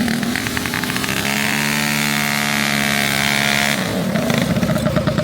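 Two fully built mini bike engines rev hard during a race, a loud, continuous high-pitched buzzing that rises in pitch, holds steady, then changes tone near the end as the bikes pass close by.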